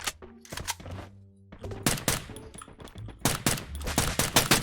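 Bursts of automatic gunfire from the video game Free Fire, rapid loud volleys broken by brief pauses, with game effects in between and no talk.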